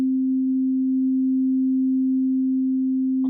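A steady pure test tone panned to the right channel holds one unwavering pitch for several seconds, loud and alone, ending with a brief click.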